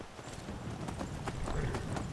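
Horse hooves clip-clopping in the video game Skyrim, a quick, uneven run of soft thuds over a steady low rumble, faint and alone.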